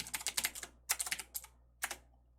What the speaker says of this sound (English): And I can't type Farley.